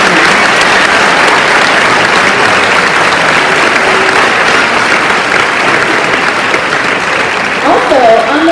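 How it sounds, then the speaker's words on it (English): Audience applause for a veterans color guard at a second grade patriotic performance, dense continuous clapping from a large crowd filling the room at a steady loud level. "How about a big round of applause for those gentlemen?"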